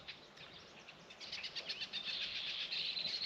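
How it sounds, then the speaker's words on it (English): Red-winged blackbirds call at a waterfront preserve in a steady run of thin, high chirps and trills that grow busier and a little louder toward the end, heard at middle distance with no voices. "I am back at where the red-winged blackbirds are hanging out."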